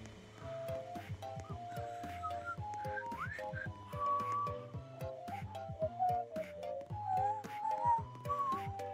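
A person whistles a wandering melody nearby while playing a Roblox lumber game, with clicks and a low background tune underneath.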